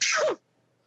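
A single short, sharp sneeze bursts out close by and cuts off abruptly, followed by near silence.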